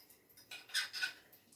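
A fork mixing food in a bowl, with a few light scraping clinks of metal against the dish in a short, quiet burst.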